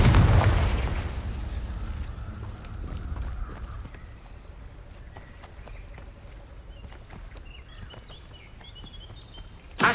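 Blasting-curse explosion in the Hogwarts Legacy video game, a loud booming burst at the start that fades into a rumbling tail with scattered clattering debris, ending on another sharp pop.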